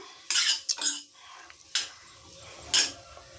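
A spoon scraping and clattering against a pan as a chayote and carrot stir-fry with roasted nut powder is stirred, several distinct metallic scrapes separated by quiet gaps.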